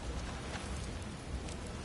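A rainstorm in the God of War Ragnarök video game makes a dense, steady hiss of rain, even and unbroken across a short stretch with no speech.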